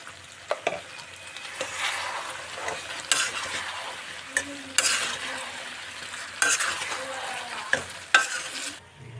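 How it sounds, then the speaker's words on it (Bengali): A spoon stirs jujube pickle in a hot pan with Kashmiri chilli powder and turmeric powder, producing repeated sharp scraping clatters over a low background sizzle, with bursts coming in uneven strokes. "এবার একটু নেড়ে দেবো।"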